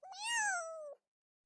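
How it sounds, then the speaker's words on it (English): A young kitten gives a single clear, drawn-out meow lasting about a second, close and fairly quiet, followed by silence. "Cute kitten."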